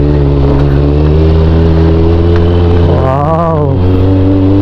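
A vehicle on a mountain road in the Cordillera, Ifugao, its engine humming steadily up close, then a rising revving whine near the end as it passes, loud and continuous with no talk.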